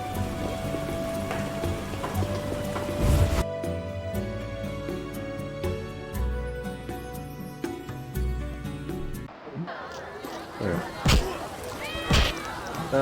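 Rain falling in the video game The Witcher (2007), a steady patter heard beneath game music and scattered thumps, with a voice speaking over it.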